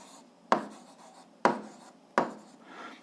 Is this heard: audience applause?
no